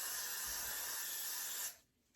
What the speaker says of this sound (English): so I'm gonna just spray.